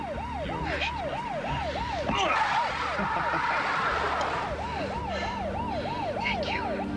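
A police car siren wails with a rapid, repeating yelp, steady and fairly close, over traffic and background rumble.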